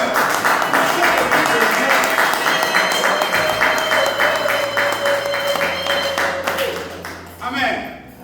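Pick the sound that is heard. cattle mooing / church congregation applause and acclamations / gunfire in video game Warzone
church congregation applause and acclamations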